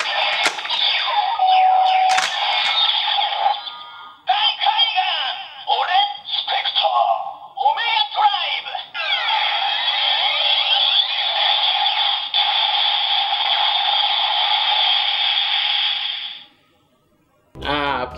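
A Kamen Rider Ghost Eyecon toy plays its attack sound effect, a loud, continuous electronic burst with warbling tones and short breaks. It runs for about sixteen seconds and then cuts off abruptly.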